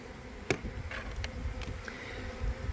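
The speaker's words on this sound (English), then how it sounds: "look at these bees attracted to this vacuum cleaner" Honeybees buzz steadily around a running vacuum cleaner during a hive rescue from a bathroom, a soft continuous drone with a few sharp clicks and taps over it, fairly faint and without talking.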